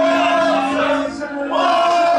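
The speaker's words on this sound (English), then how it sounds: "This crowd is electric." A wrestling arena crowd at WWE Money in the Bank 2023 chants and roars during Ludwig Kaiser's entrance, a loud, sustained mass of voices that dips briefly then swells again.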